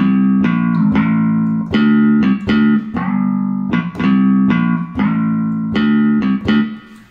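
A Kurzweil KA-90 keyboard plays a finger bass solo with pitch bend, giving a run of loud close plucked electric-bass notes in a quick rhythmic phrase with sliding pitch, heard alone.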